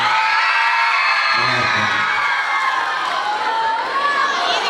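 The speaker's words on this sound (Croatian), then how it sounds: "Ajde čujemo i mi navijači." Fans at the Boom Fest 2025 competition in Prijepolje's Dom Kulture cheer loudly as a dense crowd, with whoops and high shouting voices blending into one sustained roar.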